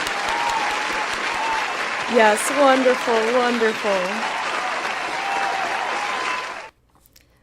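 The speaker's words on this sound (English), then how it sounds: "Let's give our sponsors a round of applause." A stream audience applauds its sponsors in a dense, continuous round of clapping. A voice speaks over it partway through, and the applause cuts off abruptly near the end.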